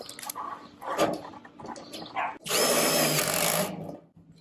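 A power drill bores holes while an aluminum patio cover is being installed. Clattering handling noises come first, then one loud, whirring drill burst of about a second near the end.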